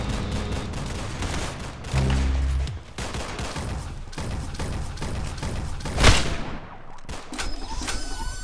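Gunfire in the video game Arsenal, bursts of rapid shots and a louder boom near the end, with game mechanisms clattering between them, moderately loud and continuous.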